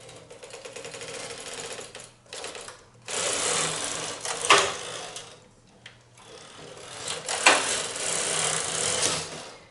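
A knitting machine carriage is pushed across the main bed for two rows of a double 1x1 rib neckband, making two long mechanical rasping, whirring passes separated by a brief pause, loud and close with no talk.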